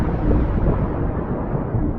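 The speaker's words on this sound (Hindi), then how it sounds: "आसमान में और भी तेज गर्जन सुनाई देने लगी" Deep, continuous rumble of thunder rolls through a stormy sky as a horror-story sound effect, a steady low roar with no voices.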